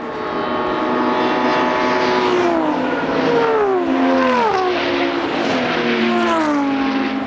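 BMW 635 CSi race car on a circuit, its engine note sweeping down under heavy braking then rising steadily as it accelerates hard out of the corner, loud and close with gear changes, no talk.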